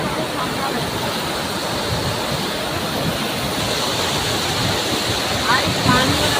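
Water rushes steadily over Kantamara dam, a loud, continuous roaring flow heard up close, with people talking over it.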